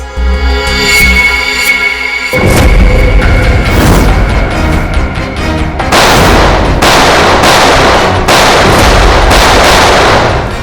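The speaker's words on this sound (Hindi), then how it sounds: "Firing range." Gunfire at a firing range: a loud burst of shots starts after a quieter stretch, then keeps going as repeated sharp cracks in uneven, rapid groups, close and dominant with no voices.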